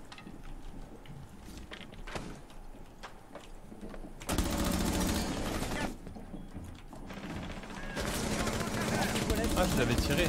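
Bursts of gunfire in a Rainbow Six Siege match, loud dense volleys that come in two blocks with quieter game sounds between them and some background chatter.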